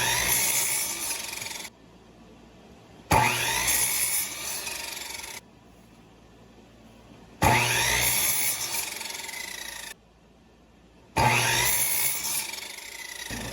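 Hand sawing through wood for bar stool parts, long rasping strokes in three steady bursts separated by brief pauses, close and fairly loud with no talking.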